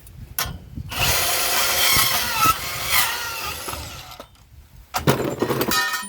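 A Milwaukee M18 FUEL cordless deep cut band saw slices through old, badly oxidized copper pipe, giving a steady, close grinding rasp for about three seconds, a short pause, then a second brief burst of cutting.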